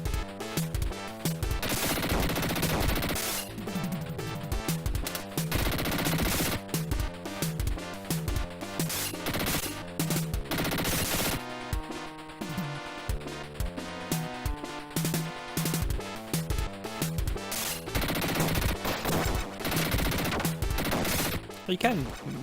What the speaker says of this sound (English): You can machine gun while you're crouched as well